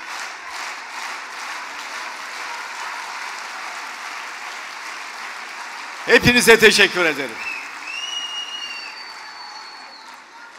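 A crowd applauds at a political launch meeting for a family-support insurance programme. Even, sustained clapping runs the whole length, and someone speaks briefly partway through before the applause trails off a little.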